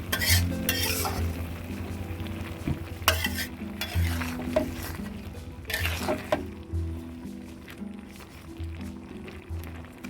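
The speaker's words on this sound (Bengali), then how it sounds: "এভাবে ঘুরিয়ে একটু নেড়ে চেড়ে নিলাম যাতে ধনিয়া গুঁড়াটা ঝোলের সঙ্গে সাজানো ঝোলের সঙ্গে মিশে যায়" A spoon stirs tengra fish curry in a pan as coriander powder is mixed into the gravy, producing repeated scraping strokes and metallic clinks against the pot over a low simmering sizzle.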